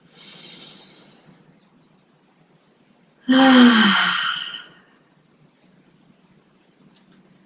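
Two deep breaths during a gentle lower-back yoga session: a soft nasal inhale, a pause, then a loud, long sighing exhale through the mouth, close and without talk.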